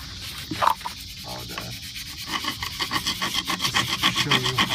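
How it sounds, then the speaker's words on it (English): A chisel scrapes corrosion off a rusted wheel rim in a steady, raspy, rhythmic grinding that quickens and grows louder toward the end, close up and alone with no talk. "Basically, just chisel it down to the metal as much as you can."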